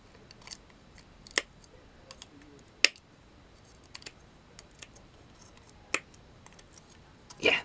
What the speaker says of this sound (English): So can we snip those off?